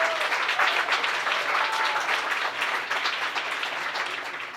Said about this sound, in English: So much clapping this morning.